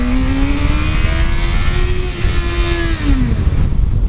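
A 2012 Yamaha FZ6R motorcycle engine revs hard and accelerates, a loud, close, steady roar whose pitch climbs, holds, then drops away near the end.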